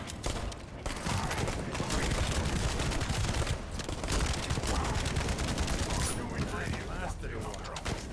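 Shotgun fire in The First Descendant, a dense barrage of blasts and rattling gunfire that runs almost without a break, loud and close, with other in-game combat noise mixed in.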